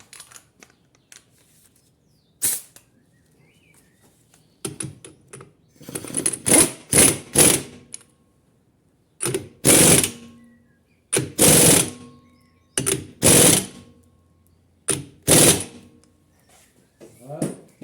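A pneumatic impact wrench tightening a nut on a Peugeot 206 rattles in a series of loud, short bursts, about seven of them, separated by brief pauses.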